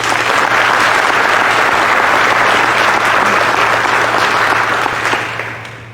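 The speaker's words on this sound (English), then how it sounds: "Let's give them a round of applause" A crowd at a 2021 graduation ceremony applauds with loud, dense, sustained clapping that fills the room and then tapers off near the end.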